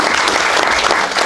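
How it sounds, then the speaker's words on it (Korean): Symposium audience applause at an international gathering on the Yangsan salamander, a dense, even wash of many hands clapping at full volume for the whole moment. "기왕이면 박수 좀 진하게 쳐주시면 안 됩니까?"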